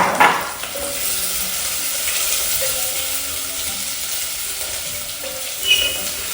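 Onion frying with bay leaves in a pan for a winter-melon soup: a continuous, fairly loud sizzling hiss, with a clank of utensil on pan at the start and another near the end, and no voices.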